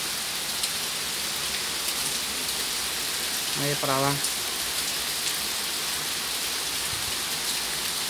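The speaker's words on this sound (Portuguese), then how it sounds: "Olha que delícia de chuva." Rain falls steadily in Campinas, São Paulo, an even wash of hiss throughout, with a person speaking briefly over it midway.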